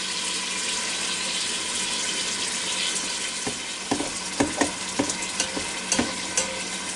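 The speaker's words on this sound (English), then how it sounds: "I'm going to sprinkle some of this down here on that beef while it's cooking up" Ground beef sizzles steadily in a Ninja Foodi Deluxe pressure cooker, a dense broadband crackle, joined in the second half by a series of sharp scraping stirs of the utensil.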